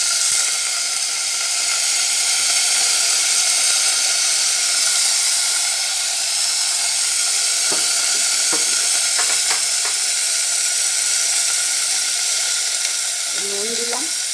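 Potatoes frying in a pan, giving a steady broad hissing sizzle that fills the whole stretch, close and fairly loud, with a few faint clinks and brief bits of sound near the end.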